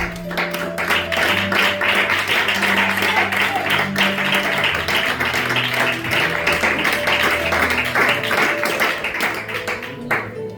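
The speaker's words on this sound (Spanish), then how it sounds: "Fuerte aplauso para la palabra del Señor" A church congregation applauds during a sermon at Iglesia Granada Sur: dense, steady clapping fills the whole stretch over sustained musical tones, with no clear break.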